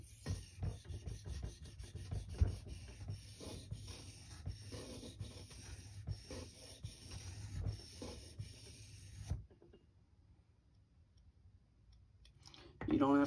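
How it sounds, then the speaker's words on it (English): A knife bevel worked on a King Neo 800 whetstone gives steady, close back-and-forth scraping strokes for about nine seconds. It then drops to near quiet before a louder rustle at the end. "You can work the bevel back and forth."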